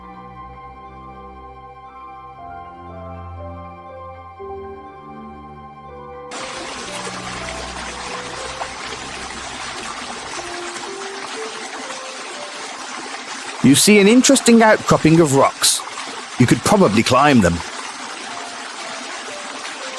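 Steady rushing water of the great river pouring into the aqueduct over the wall of Tyr in the video game Quest For Infamy, starting partway in after soft music and continuing beneath someone talking.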